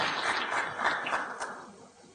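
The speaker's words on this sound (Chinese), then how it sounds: "有男生鼓掌，男生进步了啊" A few people clapping in a lecture audience, a short, light scattering of applause that fades out after about two seconds.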